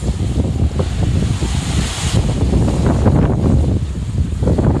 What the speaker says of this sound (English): So today, really heavy winds.